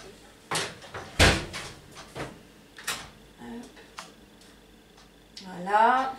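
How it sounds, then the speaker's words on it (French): An oven door opens on a baking gluten-free leek quiche, with a few sharp knocks and clunks, one especially loud, spread across a quiet kitchen. "Donc, je vais ouvrir le four."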